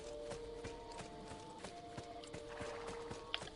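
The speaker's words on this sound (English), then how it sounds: "Can hear a horse." Hooves clip-clop at a steady trot in Assassin's Creed II, a regular run of sharp taps from a horse some way off, mixed with the game's soft background sounds.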